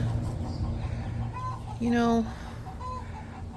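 Backyard garden chickens cluck nearby in a few short calls, one louder and drawn-out, while someone talks over them.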